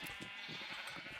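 Sheep in a video game give a couple of short, nasal bleats over a steady background of game sound, faint and brief.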